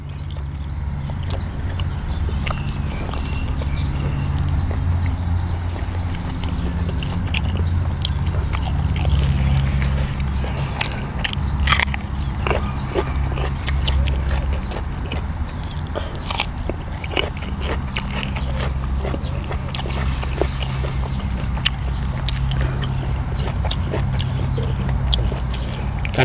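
Biting and chewing on fresh chili peppers, eaten alongside a bitter Isan-style jaew dipping sauce with beef, gives steady close crunching and chewing throughout, loud and continuous with no talk.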